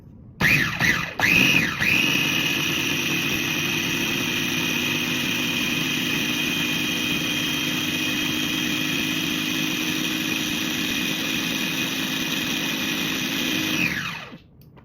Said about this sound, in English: pour it into whatever blender you're using